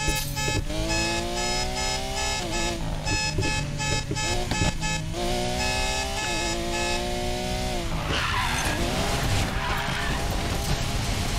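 Lamborghini Aventador in the racing game Need for Speed Payback, its engine rising and falling in pitch as it revs and shifts through gears, a steady loud game mix with tire noise and a rougher burst near the end.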